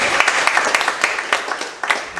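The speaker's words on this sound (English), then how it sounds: "Round of applause." Applause at an awards presentation for a mixed two-person fishing trophy, heard as scattered individual claps over a crowd murmur, moderately near and brief.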